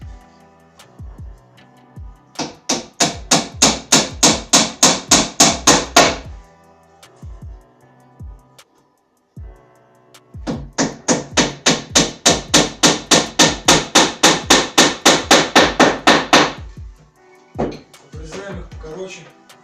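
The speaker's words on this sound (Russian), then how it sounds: "Забиваем торец доски, шканты." Wooden dowels are hammered into the end of a board during a fireplace installation: two long runs of rapid, evenly spaced hammer blows ring out close by, with scattered single taps between and after them.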